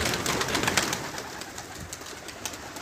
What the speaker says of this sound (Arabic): غادي نطلق الحمام نطلق الحمام الاخر باش يتولوا